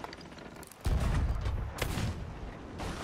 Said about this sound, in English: I hit it with my pistol